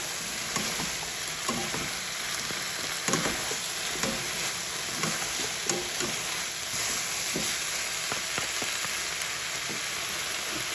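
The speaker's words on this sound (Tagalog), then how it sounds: "Put radish or labanos. Mix it." Sliced radish fries with a dense, even sizzle in a hot pan while a utensil scrapes and stirs it in irregular taps and pushes, close and loud for about ten seconds, no talking.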